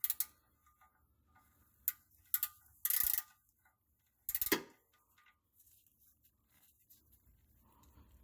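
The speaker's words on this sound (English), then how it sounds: "the plug back in, and then grab our wrench" Wrench snugging an oil drain plug back in by hand during a home oil change, heard as a few quiet, close ratcheting clicks and two brief louder bursts of metal handling in an otherwise quiet space.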